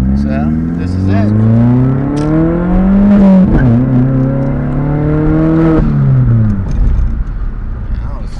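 Straight-piped Volkswagen GTI MKIV with a 1.8T engine pulling hard through first and second gear to about 55 or 60, a loud, raspy exhaust roar that climbs in pitch, drops at the shift, then rises again.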